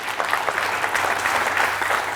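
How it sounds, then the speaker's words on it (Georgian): A studio audience at a televised book quiz applauds a contestant after a timed blitz round, with brief, dense clapping at an even loudness throughout. "აპლოდისმენტები მას ასევე შესანიშნავი ბლიცისთვის"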